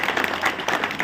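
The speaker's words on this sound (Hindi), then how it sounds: "माननीय विधायक जी के लिए जोरदार तालियां चाहूंगा" A short burst of crowd clapping at a rural development tour event for the local MLA, busy and uneven, brief and moderately loud.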